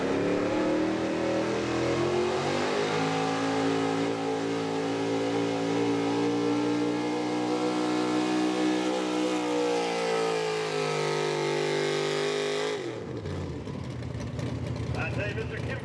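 A small block gas 4x4 pulling truck, Kim Freed's Frogtown favorite at the Beast of the East 2023 truck pull, roars loud and steady at high revs for about thirteen seconds before cutting off, with an announcer talking over it.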